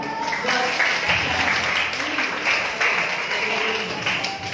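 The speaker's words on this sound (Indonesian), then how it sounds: "berikan tepuk tangan dulu dong" A party crowd applauding a young child, a brisk patter of clapping hands that swells and carries on steadily, with a few voices mixed in.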